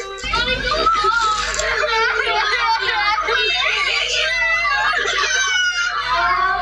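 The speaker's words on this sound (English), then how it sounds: "Later in the audio, the children burst into tears, sobbing uncontrollably." Several children cry and sob uncontrollably in a recording, loud and continuous, with wailing, high-pitched crying voices overlapping and rising and falling throughout.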